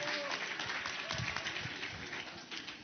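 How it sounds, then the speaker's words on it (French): Audience at an award ceremony for Med'Innovant Africa and Provence Africa Connect clapping in sustained, dense applause, with a voice briefly heard over it. "Donc, je vous demande d'applaudir."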